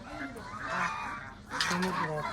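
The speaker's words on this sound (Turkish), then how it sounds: "Burada ördek ve kazlara geldik." Domestic geese and ducks on a poultry farm honk in loud nasal bursts, two clear clusters of calls close by, with a bit of background murmur.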